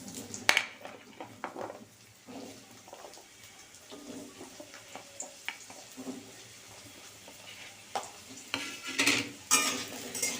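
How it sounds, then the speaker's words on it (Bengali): Potatoes frying in oil in a wok, a faint steady sizzle broken by spatula scrapes and clinks against the metal, growing busier and louder near the end, close by with no speech. "আমি কড়াইয়ে আলুগুলো দিয়ে দিচ্ছি।"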